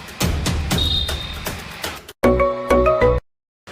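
A phone rings after a call is placed. Noisy handling and rustling give way to a short, loud, clear ringtone burst, then silence.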